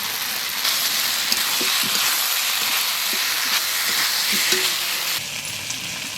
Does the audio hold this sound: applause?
no